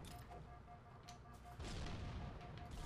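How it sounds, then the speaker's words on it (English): Tank cannon firing in Halo CE, a sudden heavy blast that swells into a loud rumbling boom, following a stretch of quieter game ambience with a steady tone. "Oh, I totally forgot the tank had a gun, too."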